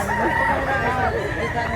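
Rooster crowing at a Cebu poultry yard, one loud, close, drawn-out call with fowl clucking around it.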